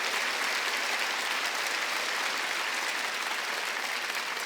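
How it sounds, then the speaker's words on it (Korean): A church congregation at an Easter Sunday service breaks into sustained applause, a dense, even roar of many hands clapping that holds steady throughout without any talk. "깨달은 사람만 박수."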